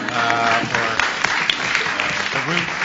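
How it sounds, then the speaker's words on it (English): An audience at a creativity symposium gives a round of applause, close and steady clapping with some voices murmuring underneath. "a separate round of applause"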